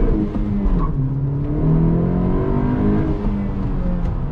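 A 10th-generation Honda Civic Si engine revs steadily and loudly, its pitch climbing and holding in a sustained roar close by.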